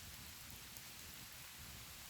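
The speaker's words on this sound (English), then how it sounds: "Looks like it's starting to pick up a little bit more rain." Steady rain falls at night over a campsite with a tent and rain fly, a constant even hiss of drops with no voices.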